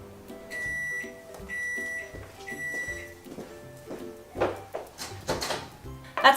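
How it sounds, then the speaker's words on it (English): A microwave oven runs with a steady hum and repeated beeping tones while chocolate melts inside, followed by clattering door and dish handling noises that grow louder toward the end. "I'm just going to put this in the microwave for 40 seconds"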